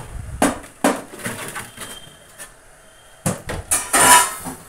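Parts being pulled out of an LG fridge freezer during a cooling-problem repair, with scattered clattering knocks of plastic and metal shelving, a few sharp bursts near the start and a louder cluster of rattles toward the end.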